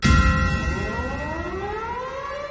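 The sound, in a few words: church bell ringing with siren in Kyiv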